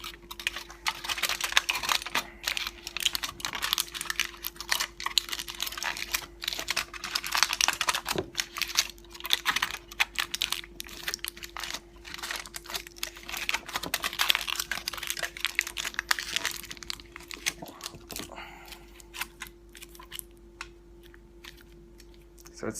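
Aluminum foil crinkled and wrapped tightly by hand, a near continuous close rustling and crackling with sharp crisp crunches throughout, over a faint steady background hum.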